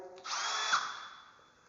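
A cordless power tool spins up and whines steadily for about a second, then winds down and fades. The sound is brief and close, with no speech.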